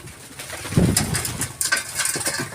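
Racing pigeons in a loft give soft, low throaty coos close by, with a few scattered calls and light rustles repeating through a couple of seconds.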